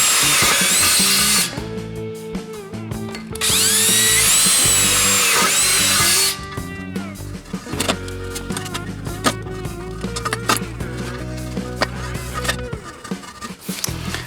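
A power drill whines at high speed in bursts, biting into a metal tank with grinding, screeching tones, pausing between runs with clanks and handling noises.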